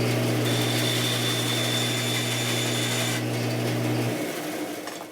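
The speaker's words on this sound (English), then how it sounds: "I do have my bandsaw on an air-driven foot switch as well, so we'll make that first cut" A bandsaw runs with a steady loud hum and hiss as it cuts through wood, the tone dropping as the motor winds down toward the end.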